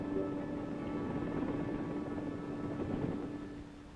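A helicopter flies nearby, its steady rotor and engine roar holding loud and even for the whole stretch before easing slightly at the end.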